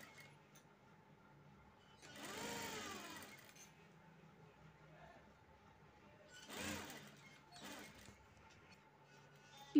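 A sewing machine runs in two short bursts of whirring stitching on fabric for a lota-style neck design, the first longer, separated by quieter room sound.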